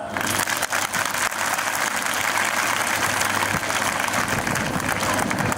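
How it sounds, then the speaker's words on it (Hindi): Crowd at an Independence Day celebration applauding heartily, a dense, steady wash of clapping that carries on unbroken for several seconds. "भगवान जी के लिए जोरदार तालियां"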